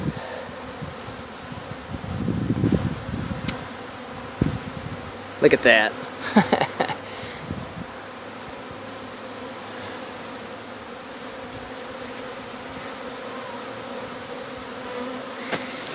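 Honeybees buzz steadily throughout a hive cut-out in Lake Wales, Florida, a constant swarm drone with brief louder bursts near the middle as a voice speaks.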